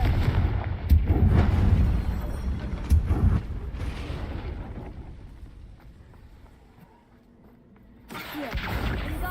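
Confringo blasting spell explosions in the video game Hogwarts Legacy, loud booming bursts packed into the first four seconds, fading to near quiet before another loud burst swells at the end.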